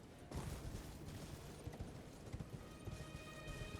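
Horse hooves clip-clop at a quick, steady gallop in Elden Ring, played on Xbox Series X. The beats are fairly faint and run continuously over a rough, noisy background.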